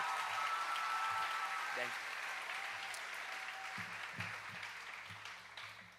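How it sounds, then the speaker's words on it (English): Graduation audience at the Westhill High School Class of 2024 ceremony applauding the class vice president, dense clapping that slowly fades while a voice speaks briefly near the end. "please stand up and accept this applause"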